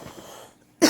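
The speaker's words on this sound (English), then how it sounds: "sorry about that, I'm just getting over that cough from last week" A single sharp cough from someone recovering from a lingering cough bursts out close and loud at the very end, after a few quiet, indistinct sounds.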